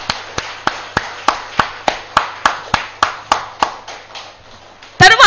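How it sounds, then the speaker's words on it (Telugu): Sharp, evenly spaced claps ring out roughly every third of a second, loud and percussive like firm hand-clapping, ending in a brief burst of louder noise; the crisp regular pattern suggests one clapper rather than a broad audience. "ఒక్కసారి ఈ చక్రానికి, ఈ శక్తి క్షేత్రానికి ఒక్కసారి గట్టిగా గట్టిగా చప్పట్లు కొడదాం"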